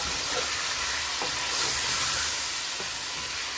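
Potato curry sizzling and frying in a kadhai as tomatoes are stirred in, a steady close hiss with a few soft spoon scrapes, no talking.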